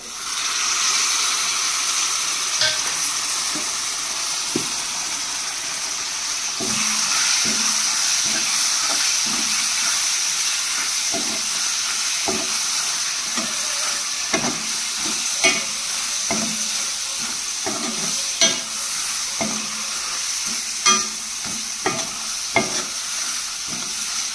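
Cleaned, cut clams fry in a pan, a steady close sizzle and hiss with repeated scraping stirs and small clicks throughout, no voices.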